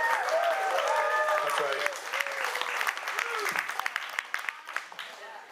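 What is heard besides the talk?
audience whooping and clapping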